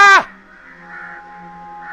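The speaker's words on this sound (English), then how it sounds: "Birds!" A crow gives a single loud, sharp caw at the start in a video game, then fades into a low, steady ambient hum that continues to the end.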